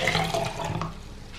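A cup of water is poured into a blender in a kitchen, giving a close, bubbling gush that is strongest at first and then tapers to a quieter trickle, heard without talk.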